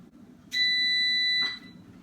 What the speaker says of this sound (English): Oh, it beeps.